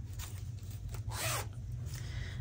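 A YKK zipper slides along a fabric pouch in one smooth stroke, a soft close rasp that rises briefly in the middle, quiet with no talking.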